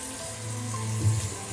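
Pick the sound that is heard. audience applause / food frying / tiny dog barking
food frying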